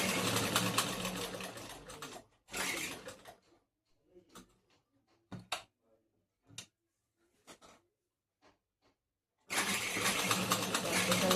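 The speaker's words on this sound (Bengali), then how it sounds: "এবার সেলাইটা করে নেবো।" Sewing machine stitching blouse fabric, running in two short loud bursts at the start, pausing through a stretch of faint clicks and handling noises, then starting up again and whirring steadily at the end.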